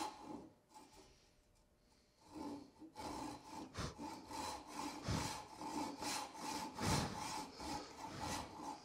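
Hand saw cutting a wood tenon for a mortise and tenon joint, a quiet pause giving way to steady rhythmic back-and-forth rasping strokes, close and continuous.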